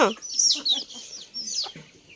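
Local chickens cluck and call repeatedly at close range, short bright squawks rising and falling in an uneven rhythm with no talking over them.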